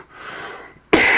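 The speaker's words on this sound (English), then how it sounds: "that's smoker's cough there" A man gives a smoker's cough: a single loud, harsh burst that comes abruptly at the end, after a moment of quiet room noise.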